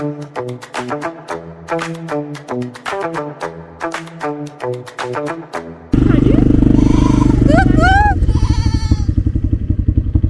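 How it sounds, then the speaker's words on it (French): Quad bike engine running while riding, a loud steady motor rumble starting partway through after rhythmic music, with voices heard over it. "On est de retour sur le quad."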